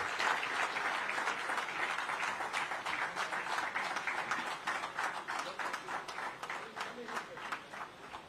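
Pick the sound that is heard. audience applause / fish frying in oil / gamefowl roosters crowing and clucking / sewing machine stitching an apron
audience applause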